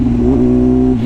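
A BMW S1000RR sport motorcycle idling or coasting off throttle, a loud, close, steady exhaust drone with a slight pitch wobble.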